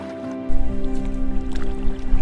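Paddles dip and pull through calm river water beside a canoe in autumn, giving soft squishing splashes and drips close by over a faint background hum.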